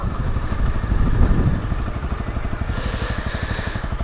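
A Honda CRF250 Rally motorcycle engine rumbles steadily as it rides along, with a rhythmic low putter and wind hiss, swelling slightly then settling into an even pulse.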